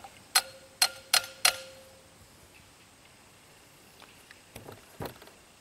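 On an old 11 HP Briggs & Stratton engine, four sharp metallic taps land on the carburetor in quick succession, then a few fainter clicks and knocks follow in a quiet room.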